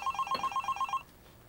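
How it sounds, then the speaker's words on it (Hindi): A telephone rings with a rapid electronic bell trill in quick repeated pulses, fairly close and alone, then cuts off after about a second. "Oh. अम्मी का फोन."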